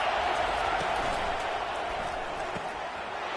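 A Michigan football stadium crowd roars on a third-down defensive stand, a steady, far-off wash of cheering and noise that holds constant throughout with no clear breaks.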